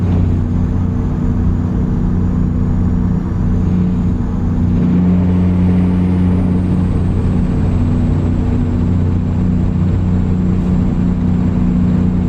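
Simulated heavy truck engine from American Truck Simulator droning steadily at close range, a constant low rumble with a slight rise in pitch partway through suggesting a gear shift, with no voices.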